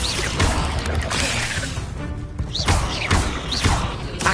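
The Incendio fire spell is cast in Hogwarts Legacy, producing repeated whooshing bursts and thudding impacts in a dense, loud rush of magical fire effects.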